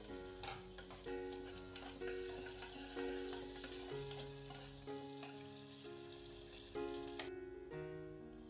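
Finely chopped onions and cumin seeds fry in oil inside a pressure cooker, a steady close sizzle running the whole time under bright tonal music notes.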